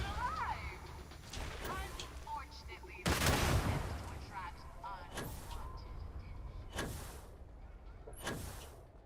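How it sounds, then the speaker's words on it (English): Starfield gunfire aimed at the player comes as several sharp, loud cracks spaced a second or two apart, each with a short ringing tail, over steady background hum, with a voice talking between shots. "They're shooting shit at me?"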